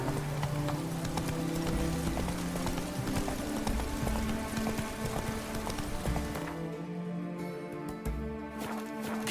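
Roach, the horse in The Witcher 3: Hearts of Stone, gallops in a steady, loud run of hoofbeats over continuous in-game ambience and music, easing off slightly near the end.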